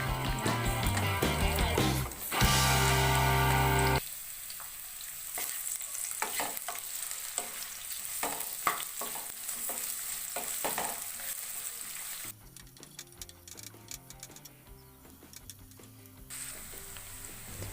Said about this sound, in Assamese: এতিয়া পিঁয়াজখিনি দি দিছোঁ